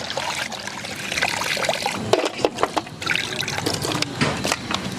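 Tap water trickles and splashes steadily while skinned quail are rinsed clean, with a few sharper splashes and clatters in the middle, close and fairly loud with no talk.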